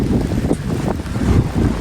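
Gusty wind buffets a mobile phone microphone during a sudden summer rain shower in a village, a continuous loud low rumble with no talking.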